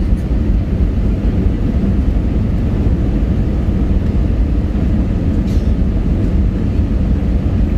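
Airliner cabin after touchdown at Davao Airport, a loud steady broadband rumble of engines and rolling wheels running continuously throughout, with no voices.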